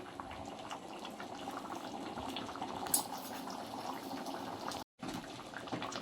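A pot of potato curry thickened with gram flour boils steadily, a close, continuous bubbling and simmering with no talk over it.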